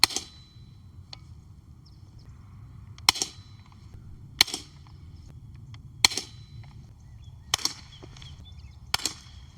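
A Daisy Powerline 880 .177 air rifle fires six sharp, cracking shots after 10 pumps, spaced a second or two apart, with soft clicks and handling noises between them outdoors.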